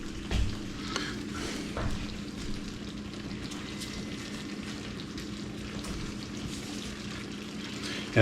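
Fish gravy boiling in a pot, giving a steady low bubbling simmer with faint sizzle and a few soft clinks near the start, close and fairly quiet throughout.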